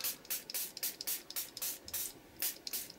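Spray bottle of blue mica spray ink spritzed over kitchen roll, a rapid run of short, close hissing bursts at an uneven rhythm.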